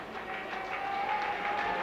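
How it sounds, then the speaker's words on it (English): Cricket crowd at a 1990 India versus Pakistan one-day match applauding a single that brings up 200, a steady distant wash of clapping and cheering through the broadcast. "Something for a part of the crowd to cheer."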